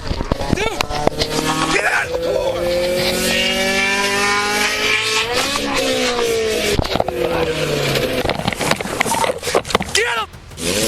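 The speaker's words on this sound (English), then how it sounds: "the suspect hit the gas and the car quickly picked up speed" During an armed police encounter, a suspect's car accelerates hard with a rising, revving engine and squealing tires, loud and close, while voices shout over it.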